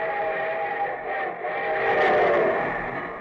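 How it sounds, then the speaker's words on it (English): A train rolls in steadily as a radio sound effect, its whistle sounding a sustained chord above a low rumble, loud and continuous throughout. "And here comes our star-studded show train."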